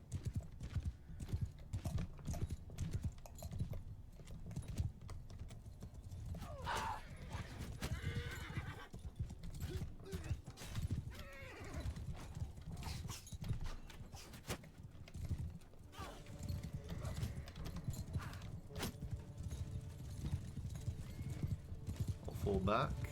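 Horses galloping in a Mount & Blade II: Bannerlord battle, a dense run of hoofbeat clip-clops with occasional whinnies, steady and fairly close, mixed with battle noise and shouted voices throughout.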